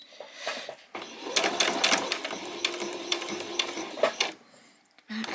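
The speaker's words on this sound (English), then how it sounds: "Back stitch." A sewing machine back-stitches on a small fabric headband, short bursts of rapid mechanical stitching with brief pauses between them, fairly close and moderate in level, with no talk.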